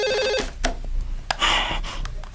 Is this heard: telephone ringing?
yes